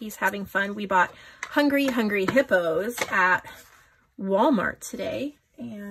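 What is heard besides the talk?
No distinct noise like a dog, phone or traffic.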